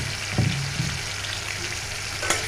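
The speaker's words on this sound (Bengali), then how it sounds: "মাছের তরকারিটা এখন বসাই দিচ্ছি, আমি আর তেল দিব না" Pangas fish curry fries in the fish's own oil with a steady, close sizzle, broken by a couple of brief stirring clinks.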